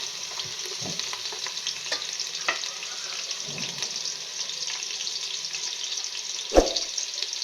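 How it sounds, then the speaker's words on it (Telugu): Onions frying in oil in a pan for chicken biryani give a constant, even hiss and sizzle, with a few faint stirring knocks and one louder clunk near the end. "ఇప్పుడు మనము బాండీలో నూనె పోసుకొని ముందు ఆనియన్స్ వేయించుకోవాలండి"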